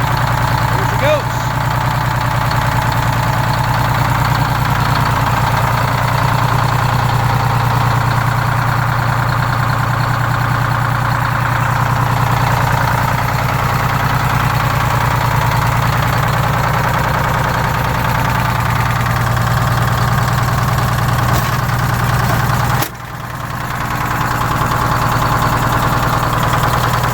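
The diesel engine of a PD4104 bus idles just after starting, a steady low rumble with a constant hum that runs evenly throughout, then shifts abruptly near the end.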